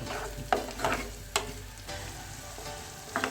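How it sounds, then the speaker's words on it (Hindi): Onions with ginger garlic paste softening in a pan for white beef keema, a steady low sizzle with several sharp spatula scrapes and stirs breaking through, close and alone with no voices. "तो अदरक लहसुन के पेस्ट के साथ प्याज को भी हम थोड़ा सा सॉफ्ट होने देंगे।"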